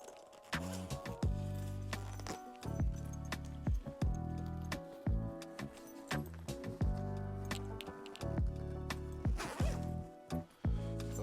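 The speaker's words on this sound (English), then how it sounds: "we're going to zip this up to create the duffel" A zipper is drawn closed along a duffel bag in a run of quick, rasping pulls with short pauses between them, set against steady background music.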